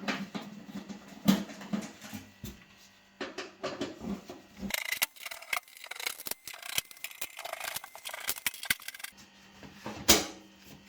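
Screws come out of a Beko electric oven with faint, scattered metallic clicks, scrapes and clinks of loose screws. The sounds are intermittent and nearby in a quiet room, and no one speaks.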